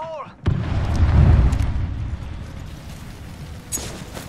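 A grenade blast in Apex Legends, a sudden loud boom with a rumbling tail that fades, followed by a short sharp burst near the end.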